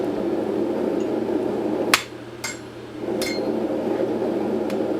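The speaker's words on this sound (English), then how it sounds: "Hammer it down through, and then when you feel it bounce off the anvil, you know it's just about ready." A hammer strikes a hot punch on an anvil while forging tongs, giving four sharp, ringing metallic blows at uneven intervals over a steady low hum from the forge.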